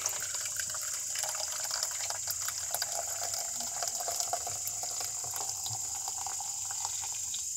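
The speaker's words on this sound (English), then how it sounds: "first boiling with distilled water" Steady hissing, bubbling distilled water boiling with a continuous bright rush in a vessel, with no pauses.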